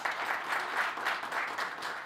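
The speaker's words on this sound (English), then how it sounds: "can you give him a round of applause?" Audience applause at a youth event, a short burst of moderate clapping from a modest crowd with a slightly pulsing rhythm.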